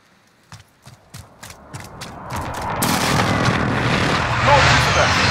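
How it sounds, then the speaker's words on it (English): A precision airstrike lands in Call of Duty: a quick series of sharp impacts builds into a dense, roaring wall of explosions, loud and close, with voices heard over it. "Enemy precision airstrike inbound."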